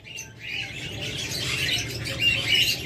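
Pair of creamino opaline lovebirds chirping, a dense run of high, shrill twittering calls, close and continuous over a low background hum, with no talk.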